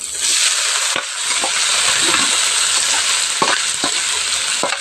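Bitter gourd (ampalaya) sizzling steadily in a hot pan, a continuous close frying hiss broken by a few sharp clicks of a utensil stirring, with no voices.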